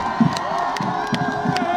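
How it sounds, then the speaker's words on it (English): High school football fans cheer for their Cardinals team at a playoff game, a brief burst of crowd roar and shouting heard from a distance in a short, continuous swell. "The fans on their feet cheering, appreciating this Cardinal football team"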